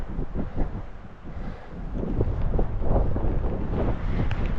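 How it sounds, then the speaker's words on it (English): Strong wind buffets the microphone on a hillside wild camp above England's deepest lake, a loud continuous rumbling roar that gusts and builds toward the end. "It's quite breezy though."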